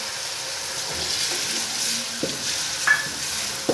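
Tomatoes and chilies sizzle steadily in a hot pan for palak gosht, with a few soft stirring scrapes and clinks, close by and without talk.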